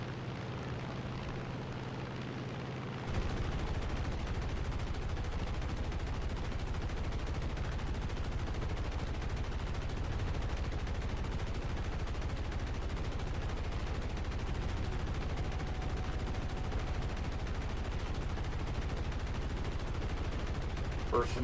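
Aircraft machine gun fire during a P-47 versus Spitfire dogfight in a flight combat video game, a dense, continuous rattling roar blended with engine drone, starting abruptly after a short quieter lead-in and continuing steadily.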